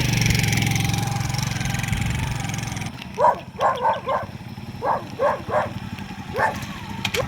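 A motorcycle carrying corrugated roofing sheets idles with a steady mid-pitched engine rumble for a few seconds, then cuts out. A dog barks repeatedly afterward.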